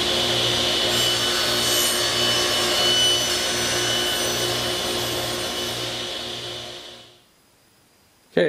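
A table saw blade whines steadily through wood for about seven seconds, loud and close, then the cut ends and the noise drops off abruptly.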